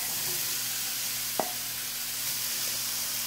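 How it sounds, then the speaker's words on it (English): Peppers sizzle in a hot pan in a steady, close hiss that stays even throughout, broken once by a single sharp knock of a utensil, with no talking. "Alright, so I'm adding my peppers."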